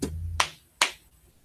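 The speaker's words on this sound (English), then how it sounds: "notice I was patting on my leg to get that" Two sharp slaps of a hand patting on a leg about a beat apart, each a crisp broadband hit that decays quickly, with a low hum under the first part.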